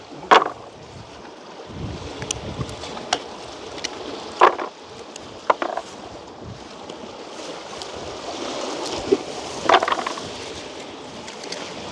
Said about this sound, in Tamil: அலை அடிக்கிற சத்தத்துக்கு கடற்கரையில் இருக்கிற மாதிரி கிடக்கு.